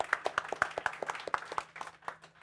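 An audience gives scattered, delayed clapping at a tech presentation, a thin run of distinct individual claps at a quick uneven rhythm that thins out and fades after about two seconds.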